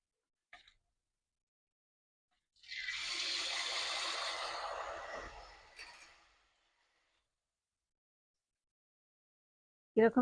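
Pitha batter dropped into hot oil for teler pitha gives a single rising sizzle and hiss that lasts a few seconds and then fades, alone and close, with a faint clatter at the very end.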